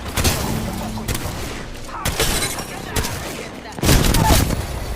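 Gunfire in the video game Apex Legends comes in dense, loud, repeated bursts and volleys that crowd the whole stretch with little pause.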